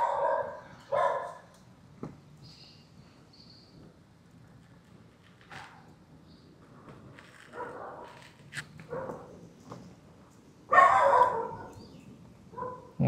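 Dogs bark in a village of villa houses, several separate barks and yips at moderate distance spread across the stretch, with quiet between them.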